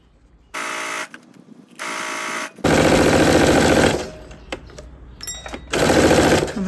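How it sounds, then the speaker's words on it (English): A sewing machine stitches a half-inch seam around a bodice for a top, running in short buzzing bursts and then longer rattling runs with brief stops between them, loud and close. "you're going to stitch a 1/2 inch seam allowance all the way around to the other side of the bodice"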